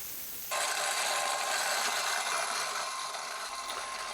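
Grain mill grinding fresh spelt berries at its finest setting: a steady, loud broadband whir and rasp that starts abruptly after a brief quieter lead-in and runs evenly to the end, with no voices.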